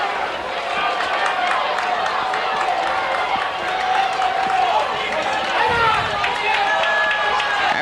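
Home crowd at a 1990 Evanston Township versus New Trier high school football game, a broad sustained roar of cheering and noise filling the stands, with a commentator talking over it.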